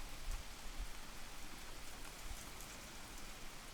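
Steady rain falling on a surface, a continuous even hiss that fills the whole stretch with no voices over it.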